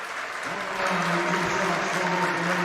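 A crowd at a high school regional basketball game applauds a senior player as he leaves for the bench, a steady, dense wash of clapping that swells louder partway through, with voices mixed in.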